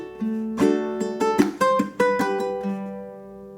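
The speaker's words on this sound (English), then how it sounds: "this 24th bar, is just going to be basically strumming and throwing in some muted strums" Ukulele strummed through a passage of a song, bright ringing chords broken up by short percussive muted strums in an uneven rhythm, close and clear with no voices.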